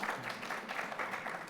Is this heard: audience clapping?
yes